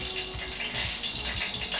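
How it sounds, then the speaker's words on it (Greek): A drop of water hits a hot kitchen pan during saganaki cooking and hisses in a continuous crackling sizzle. The sound is close and steady, with no voices. "θα ρίξω μια σταγόνα νερό"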